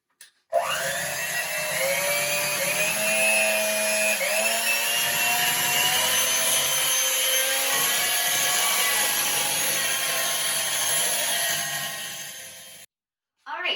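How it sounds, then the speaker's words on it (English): An electric mixer runs on high speed through a batch of cream cheese and Cool Whip for a pumpkin dessert, giving a steady, close motor whine whose pitch shifts slightly as it churns. "you're going to turn your mixer up to high speed and make sure there are no lumps in the mixture"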